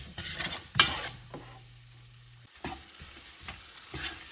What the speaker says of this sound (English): All right, and give that a little stir. Continue to let this cook up some